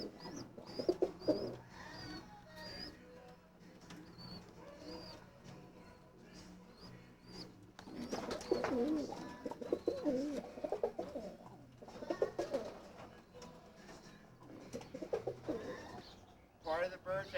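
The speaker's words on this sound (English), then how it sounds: "Oh, you're just getting some birds now," Young mixed pigeons being trained, cooing softly and repeatedly at close range, with the calls growing busier and louder midway amid rustling and someone talking.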